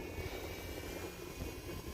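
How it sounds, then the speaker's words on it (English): An RC airplane on a 3S battery at half throttle drones steadily overhead with a constant engine and propeller whir, holding an even level throughout with no talking. "But this airplane's flying fine. That was about half throttle."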